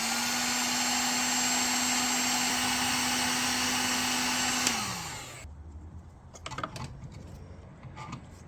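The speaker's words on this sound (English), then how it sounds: "And then we warm up the heat shrink." A heat gun blows a steady whirring stream while warming heat shrink tubing on wiring for a Jeep Wrangler JK switch panel, then winds down and stops, leaving faint clicks and handling noises.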